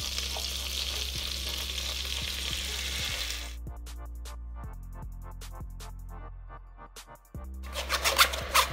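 Strained tomato puree hits hot melted butter in a pan with a loud, steady sizzle that cuts off abruptly midway, leaving near silence with scattered clicks and scrapes before a fresh burst of crackling frying at the end.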